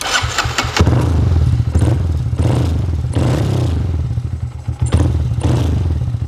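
Honda Grom motorcycle fitted with a sportbike exhaust, idling with a loud, rough burble that surges in uneven revving bursts and sputters, close and steady throughout.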